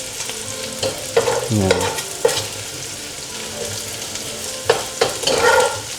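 Chopped garlic sizzling and frying in a pan for ginisang upo with pork, a steady crackle broken by repeated stirring scrapes, close and fairly loud, with a brief spoken word.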